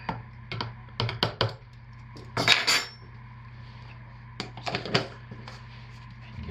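Activated charcoal stirred into cold process soap, with several sharp clinks and scrapes of a utensil against the container in short bursts and quiet pauses between them.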